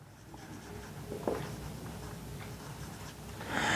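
A pen writes out a math solution for a Class 10 linear equations exercise, producing faint, soft scratching strokes and light taps at close range against a quiet room background.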